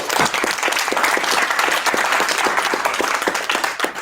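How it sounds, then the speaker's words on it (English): An audience breaks into applause at a small business pitch gathering, many hands clapping in a full, steady wash, loud and close, continuing for several seconds without letup. "Let's give him a round of applause."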